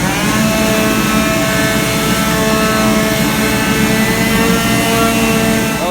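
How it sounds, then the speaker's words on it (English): A power sander works cheap plywood smooth up to 220 grit, producing a loud, continuous droning whine that holds steady throughout with no pauses. "So even though it's cheap plywood, I'm going to sand it so we can stain it."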